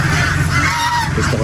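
A goose honks on a rainy duck farm, a loud nasal call that rises and falls over steady rain noise, close by and without talk.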